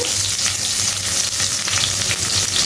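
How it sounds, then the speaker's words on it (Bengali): Chopped onions fry in hot oil with cardamom and cinnamon for a village-style goat curry, giving a continuous dense sizzle with light crackles and occasional stirring scrapes, close and without talk. "আমরা এখন পেঁয়াজগুলো দিয়ে দিচ্ছি, পেঁয়াজ কুচি দিয়ে দিচ্ছি"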